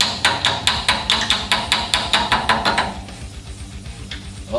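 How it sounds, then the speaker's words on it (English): A tool tapping on a part of a 1965 Ford Custom produces a steady run of about a dozen loud, close metallic knocks in even rhythm, then stops, leaving a quiet shop background. "Give that a little tap tap."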